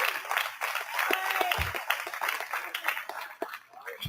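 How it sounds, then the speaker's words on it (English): Scattered applause from a modest crowd at a company wellness kick-off, uneven claps with some chuckles and voices mixed in. "hand of applause for them"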